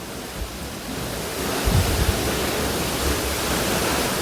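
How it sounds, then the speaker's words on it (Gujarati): Borewell water pours steadily into an open farm well, a constant broad rushing wash like surf, slightly louder in the second half, with no voices. "બાકી તો આ કૂવામાં જાય જાય એટલું પાણી આવે છે"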